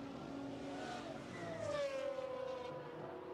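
A powerful Lamborghini V12 engine drones and swells, rising in pitch as it revs and passes during a demonstration race, heard at moderate distance with no talking.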